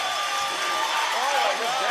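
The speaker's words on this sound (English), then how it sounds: "And listen to the crowd." A crowd cheers loudly at a men's curling championship, a continuous roar with whistles and shouts rising through it.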